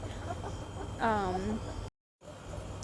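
A single chicken eating corn clucks once, close and clear, over a low background hum that briefly cuts out.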